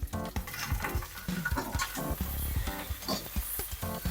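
Vegetables, aubergine and potatoes with peanuts, parsley, mustard and ginger, sizzle and get stirred in a pan while rice boils nearby. Close, busy scraping and clattering of a utensil against the pan runs throughout over a steady frying hiss.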